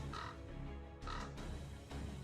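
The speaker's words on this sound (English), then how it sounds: "Can you hear the cries of those birds flapping their wings overhead?" Birds crying overhead in the video game Fate/Grand Order, harsh caw-like calls repeating in bursts over a dense, steady background of game sound, with no speech.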